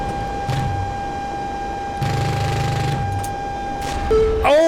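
In a flight simulator dogfight, an Su-30's aircraft cannon fires in short rattling bursts, a brief one followed by a longer one, over steady engine and cockpit noise, with a chirping electronic tone at the very end.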